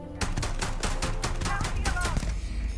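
Rapid weapon fire from a gun in the space game Starfield, a dense run of sharp shots over about three seconds with steady loudness, mixed with game sound effects and some voice activity.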